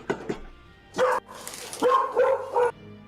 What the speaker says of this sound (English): So the dog is crazy.